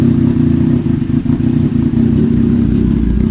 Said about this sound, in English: Idling a little rough.